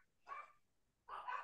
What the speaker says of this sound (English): The dogs are very loud right now.